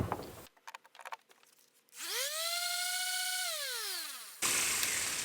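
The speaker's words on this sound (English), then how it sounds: "Let's give our orbital sander a shot." An orbital sander powered by a Bluetti EB70 portable solar power station whines up in pitch, holds a steady high drone for a couple of seconds, then winds down, with clicks before and a noise burst after.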